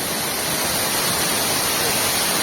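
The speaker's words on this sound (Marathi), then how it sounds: "तुम्हाला मी दाखवतो इथे एक धबधबा पाहू शकता" A waterfall near a fishing spot, heard up close as a dense, unbroken roar of rushing water that holds level for the whole stretch with no voices.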